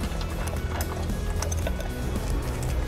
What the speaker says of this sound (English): So to adjust side-by-side movement, we just unloose these bolts